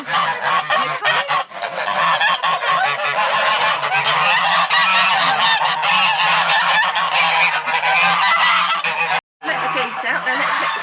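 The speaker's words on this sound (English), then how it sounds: "Right, let's let the geese out now. As you can tell, they're a little bit excited." A flock of excited geese on a Welsh smallholding honks loudly and continuously as they are let out, a dense, close chorus with only a brief gap near the end.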